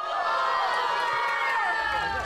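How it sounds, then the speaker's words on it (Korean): A crowd cheers loudly as North Korean leader Kim Jong-un appears in a Mao suit, a dense, continuous roar of shouting and whooping that fills the whole stretch. "인민복을 입은 김정은 위원장이 모습을 드러내자 이내 환호성이 터져나옵니다"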